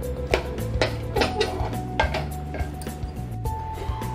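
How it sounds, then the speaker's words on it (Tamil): Metal utensil scraping and clinking in a pan while mashing boiled peas and potatoes for masala sundal, with steady irregular knocks and scrapes close up over a low hum. "நல்லா பட்டாணிய உடைச்சு விட்டுக்கோங்க உருளைக்கிழங்கும் ஒரு அளவுக்கு மேட்ச் ஆயிடணும்"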